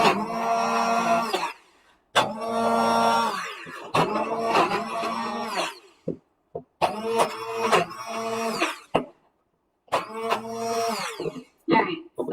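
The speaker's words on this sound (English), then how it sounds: "If you're doing this with a blender, you want to stop, scrape down the sides, and resume blending." A loud whirring blender motor runs in long bursts, pausing briefly between them, with short clunks and clatters in the gaps.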